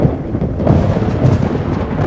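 Thunder from a lightning storm rolls as a loud, deep rumble lasting about two seconds, swelling in uneven low pulses, close and heavy with no voices over it.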